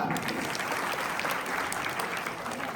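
Sustained applause from a large group at a 2025 Shendurni Nagar Panchayat election event, brisk and even, filling the whole stretch without a break.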